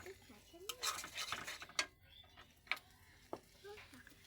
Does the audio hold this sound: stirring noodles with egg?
yes